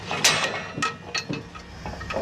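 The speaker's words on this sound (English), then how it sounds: "The pile driver hammers the stakes until they are 2 meters deep into the ocean floor." A pile driver drives 18-meter wooden stakes into the ocean floor in the Bay of Fundy, Canada, making a handful of irregular, sharp hammering knocks at moderate distance.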